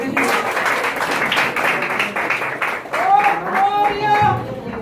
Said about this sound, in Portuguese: Vamos receber o nosso irmão com as palmas bem alegres.